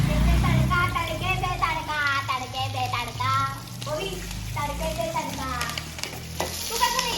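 Onion tadka sizzling and being stirred in hot oil, a steady loud frying crackle with busy clatter throughout, while people talk over it in Marathi.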